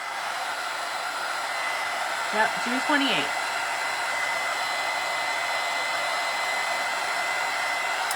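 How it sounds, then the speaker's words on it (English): A hair dryer blows heat onto craft paper daisies, a steady loud whooshing roar throughout, with a brief voice speaking over it partway. "I'm going to take my dryer to them."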